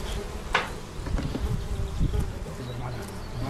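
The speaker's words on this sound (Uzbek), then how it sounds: "Arini chetga haydayapman." Honeybees buzz in a thick, continuous drone as a beekeeper drives them aside from the hive frames with smoke, close and steady with occasional louder passes near the microphone.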